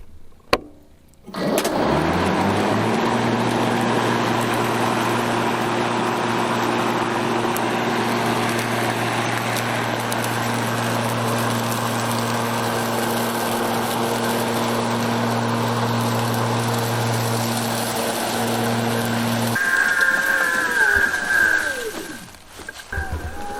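A Ryobi electric lawn mower hums steadily and loudly for about twenty seconds with its blades engaged, a low even drone that shifts and fades near the end.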